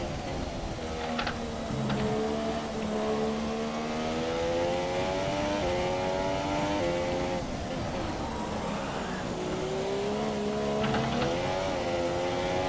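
A Formula 1 car engine in the game F1 2017, during a wet race at Monza, revving hard under throttle and rising and falling in pitch with gear changes, loud and continuous throughout.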